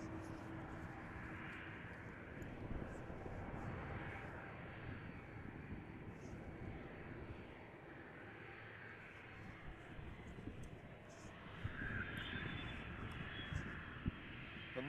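A business jet at Amsterdam Schiphol Airport, a faint, distant, continuous engine roar that gently swells and fades over the length of the recording.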